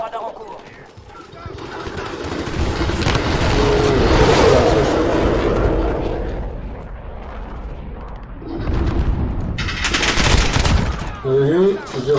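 Rapid bursts of video game gunfire from a shooter played with a PS4 controller, dense and continuous over most of the stretch with louder volleys near the end, under a noisy mix.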